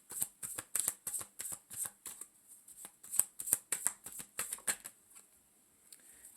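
Tarot cards shuffled by hand, a fast run of crisp riffling bursts in irregular rhythm, close and fairly quiet, thinning out toward the end.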